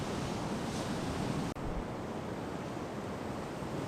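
Huge ocean waves breaking on the shore at Bundjalung National Park, a steady loud wash of surf with a brief dropout midway and no voices.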